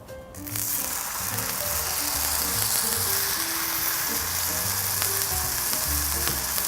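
Seasoned steak for fajitas sears in a hot pan, a loud, steady broadband sizzle that starts abruptly and holds constant, with small crackles and pops scattered throughout.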